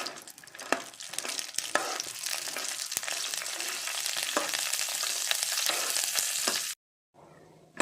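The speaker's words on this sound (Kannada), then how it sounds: "ಇದನ್ನು ಗೋಲ್ಡನ್ ಕಲರ್ ಬರುವವರೆಗೆ ಫ್ರೈ ಮಾಡಿಕೊಳ್ಬೇಕು." Cashew nuts frying in hot ghee in a pan, a steady close crackling sizzle with scattered sharp pops and occasional stirring scrapes, running continuously before cutting off briefly near the end and returning more quietly.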